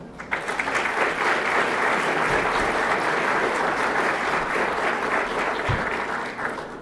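A banquet audience at a 2016 L3 dinner gives family members a round of applause. The clapping is full, close and steady, with a few brief thumps partway through.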